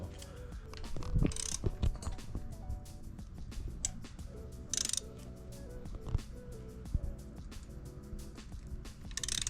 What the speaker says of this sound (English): I got my 3/8 ratchet.